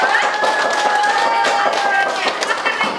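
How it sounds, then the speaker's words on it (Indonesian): Steady clapping from a group in a classroom, with a dense, continuous patter of hands and a faint tone running underneath. "Beri tepuk tangan yang meriah untuk kelompok 2."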